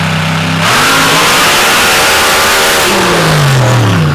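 An MRA Elite dirt drag racing car at an ultra quick dirt drags event accelerates hard, its loud engine climbing in pitch through a full-throttle run, dipping slightly, then rising again, close and dominant throughout.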